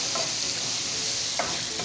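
Scotch pepper is stirred in a frying pot, producing a loud, continuous hissing sizzle with a couple of brief scraping strokes from the stirring utensil.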